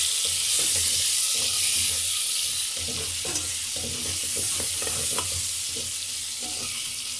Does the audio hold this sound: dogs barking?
no